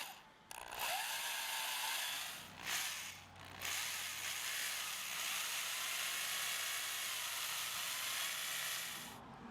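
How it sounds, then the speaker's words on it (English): A power drill whirs steadily, driving wood screws with brief pauses between runs and a ratcheting mechanical whine, close and fairly loud. "And then drilled the screws in."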